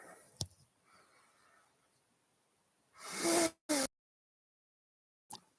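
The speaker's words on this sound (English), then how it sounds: "Oh no, I'm going to sneeze." One sneeze bursts out loud and close, a sharp breathy blast with a short second puff, after a quiet stretch and followed by silence and a faint click.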